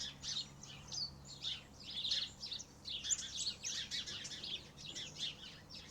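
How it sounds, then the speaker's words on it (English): Many small birds chirping and tweeting continuously in the distance at a caravan park in Mount Compass, South Australia, a busy overlapping chorus of high calls with no voices. "I don't know if you can hear the birds"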